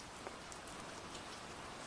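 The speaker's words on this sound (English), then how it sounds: "I see, the rain has turned red" Steady rain pours down in a horror game setting, a dense even hiss of drops on surfaces with a faint patter, continuous and fairly loud with no voices.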